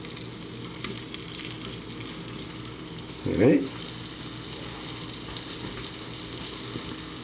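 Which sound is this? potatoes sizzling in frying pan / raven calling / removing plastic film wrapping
potatoes sizzling in frying pan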